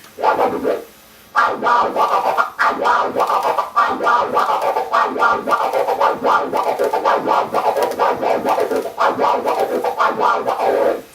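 Rapid turntable scratching of a shouted "freak out" vocal sample, choppy back-and-forth bursts repeating loudly and continuously.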